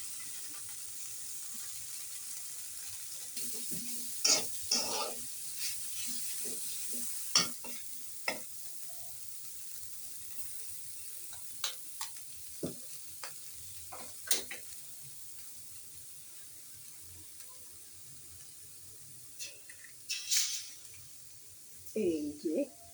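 Onion and carrot fry in a pan for a Bangla beef sandwich breakfast, a soft steady sizzle with scattered clinks and scrapes of stirring, fairly faint and close, with a brief voice near the end.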